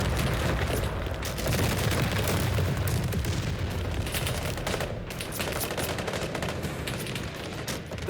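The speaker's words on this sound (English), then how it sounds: "Those are BTR-82s with the 30mm cannon." Rapid, sustained automatic cannon fire from BTR-82 armored vehicles with 30mm cannons in the Call to Arms military strategy game, dense overlapping bursts and booms loud and continuous throughout.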